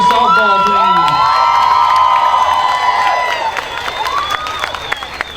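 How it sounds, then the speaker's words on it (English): A crowd cheers, whoops and applauds for a state-ranked girls' softball team at a community event, loud and continuous with high children's shouts, easing slightly toward the end. "One last big round of applause."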